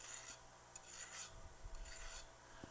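A diamond card is drawn lightly across a blade edge to take off a burr, making soft, faint rasping strokes in a quiet room with a few louder scrapes toward the end.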